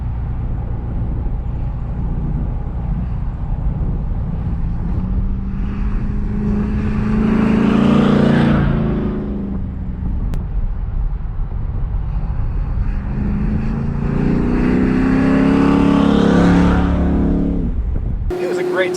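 Buick Gran Sport with a big block engine and race option, revving loud in two long rising surges that climb, peak and fall away, with faint music or voice underneath.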